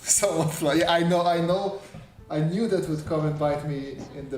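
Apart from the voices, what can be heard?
No everyday noise stands out behind the speech.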